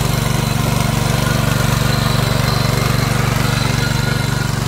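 A tractor engine working a flooded paddy field, running steadily and fairly loud close by, with a constant low throbbing rumble and no talk over it.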